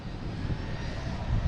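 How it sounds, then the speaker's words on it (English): Japan Airlines airliner passing overhead near Boston Logan Airport, a broad, steady engine roar with low rumble, heard alone outdoors. "we got Japan Airlines flying over us right now"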